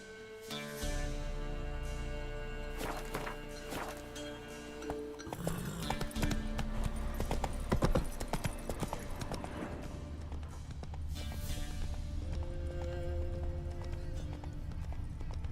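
Roach the horse galloping in a video game, with a quick, steady run of hoofbeats over layered in-game sound and a brief voice now and then.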